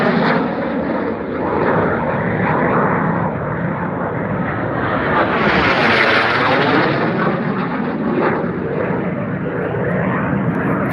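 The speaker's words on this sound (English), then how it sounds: "I think it's an Alpha jet in the lead." Jet aircraft, led by what may be an Alpha Jet, racing around the pylons at an outer-8 pylon air race, a loud continuous roar that swells and peaks mid-pass before easing, with no voices over it.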